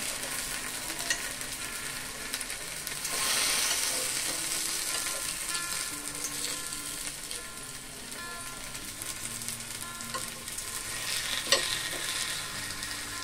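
Caramelized sweet potato slices fry in a pan with ghee, giving a steady close sizzle throughout, swelling briefly as pieces are flipped, with a few small clinks of the turner.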